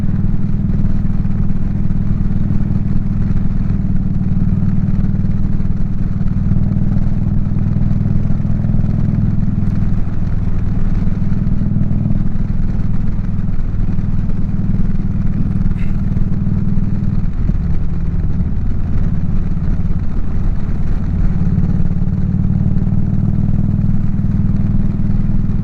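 A motorcycle engine runs steadily while riding in cold weather, a loud continuous low rumble with wind and road clatter throughout.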